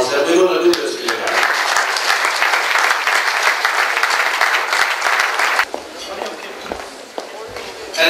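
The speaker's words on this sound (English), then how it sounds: "giving them a great round of applause" At a Conservative Party of Canada victory reception in Toronto, a crowd breaks into loud, sustained applause that drops off sharply near the end, leaving scattered claps and room noise.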